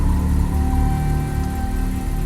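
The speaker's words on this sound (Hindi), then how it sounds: "इंजन में तो चालू है" A Toyota Innova parked in a courtyard with its engine left running and no driver inside gives a steady, close, low idling hum that holds evenly throughout with no voices.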